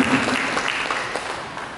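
A church congregation claps together during a sermon, a dense, steady wash of many hands applauding at close range for a brief moment with no pauses.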